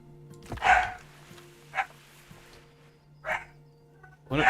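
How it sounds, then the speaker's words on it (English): Several dogs bark in sharp, spaced bursts, about four loud barks over a low steady hum, fairly close and without talk. "Hey, dogs! Cut it out!"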